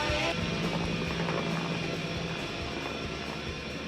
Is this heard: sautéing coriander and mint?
no